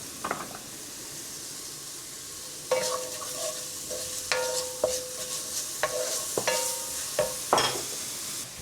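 Onions frying in a pan, a steady hiss with several sharp clinks and scrapes of a utensil stirring against the pan, close and alone.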